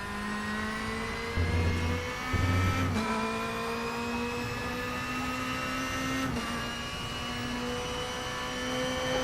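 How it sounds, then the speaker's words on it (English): A BMW DTM 2016 race car in a racing sim game, its engine a steady, moderately loud droning whine with gradually rising pitch, briefly joined by deeper tones, without speech. "I like how the bimmer sounds compared to the others"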